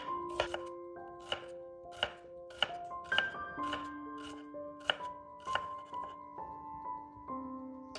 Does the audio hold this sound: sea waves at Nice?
no